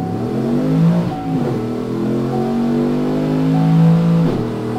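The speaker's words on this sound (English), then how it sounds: "So let's go ahead and try to do a little test roll again." Gen V Silverado truck with an L86 engine, BTR 220 cam and Truck Trinity intake accelerating on a dyno roll, a loud steady engine drone climbing in pitch, with a brief dip at an upshift near the start.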